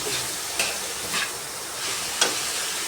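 Liver hissing in a hot pan while pancit is being cooked, a steady close sizzle with a few brief scraping stirs breaking through.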